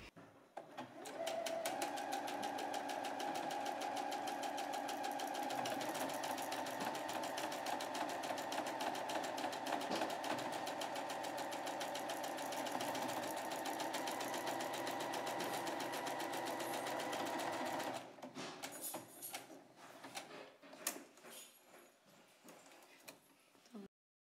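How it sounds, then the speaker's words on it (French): A domestic sewing machine whirs steadily for about eighteen seconds while stitching a buttonhole on a Louise blouse, a close, continuous motor hum, then stops and a few fainter clicks and handling noises follow. "on réalise la boutonnière grâce à votre machine à coudre"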